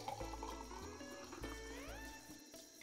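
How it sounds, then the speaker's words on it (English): A cocktail with crushed ice is poured into a container, giving a continuous splashing, rattling pour with a rising filling tone over a steady background. "So we're going to pour our cocktail and all that crushed ice into"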